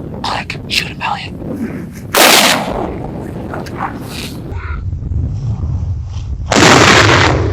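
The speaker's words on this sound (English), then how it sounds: "Shoot him, Elliot." A rifle shot cracks loudly at a coyote during a windy hunt, one sharp blast followed by a second burst later, amid wind rumble, with a dog-like yip and brief speech between.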